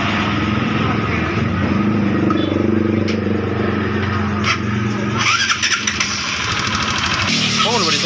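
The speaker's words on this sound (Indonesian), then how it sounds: "Jadi sekarang akan kita tes hidup, apakah motornya ini bisa hidup atau tidak." A Honda CB150R motorcycle engine, freshly rebuilt, turns over and fires, then runs with a steady close rumble and a brief rise in revs near the end.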